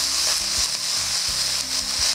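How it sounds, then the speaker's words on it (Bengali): Ginger and green chilies fry in a pan of hot oil, giving a steady close sizzle that runs unbroken for about two seconds, with no voices over it. "1 মিনিট একটু ভেজে নেব।"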